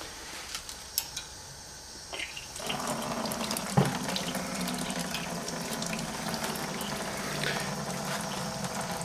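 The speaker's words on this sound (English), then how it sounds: "I will use that water then to complete flushing all of those beautiful fermentable sugars off of the bed of grain in the brew kettle" Hot water pours into a brew kettle to flush sugars off a bed of grain for a vodka mash, a steady close splashing flow that starts after a few scattered clinks and keeps running loud and even.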